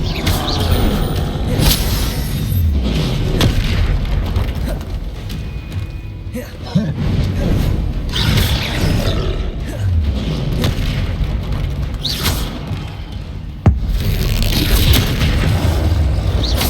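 Repeated Confringo fire spells blasting in Hogwarts Legacy, a dense run of loud booming explosions and whooshes over a constant rumble, with sharper impacts standing out near the middle and end.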